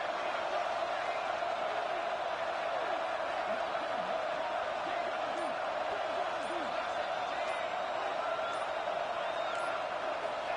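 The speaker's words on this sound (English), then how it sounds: "And this crowd is deafening" A deafening stadium crowd roars at a college football spring game during a two-point try, a constant wall of cheering and noise while a commentator talks over it.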